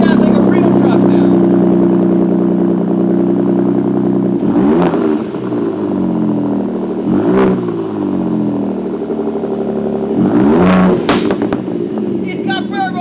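A Gen 2 Ford Raptor with the 3.5 EcoBoost engine and an AWE exhaust idles with a deep, steady rumble, broken by three sharp throttle blips spaced a few seconds apart.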